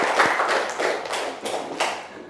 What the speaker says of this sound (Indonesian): aplaus untuk Dinda ya